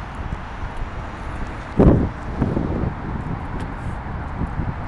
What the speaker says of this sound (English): Fucking windy.